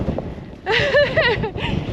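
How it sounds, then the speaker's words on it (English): Strong wind with blowing rain buffets the microphone with a steady low roar on Dartmoor near Fur Tor, and a voice briefly sounds through the gusts. "it's super windy, and the rain is blowing straight into my face"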